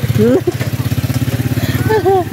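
A motorcycle engine idles nearby with a steady, rapid pulsing putter under brief speech.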